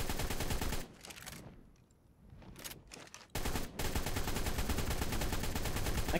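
In ARK: Survival Evolved on Scorched Earth, a tail gunner fires at a poison wyvern, loud rapid machine-gun bursts that pause for about two seconds with a few short volleys, then resume as a steady stream.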